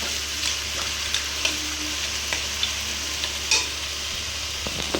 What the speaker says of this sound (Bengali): আর এই মশলার সাথে মাথাটা কষাচ্ছি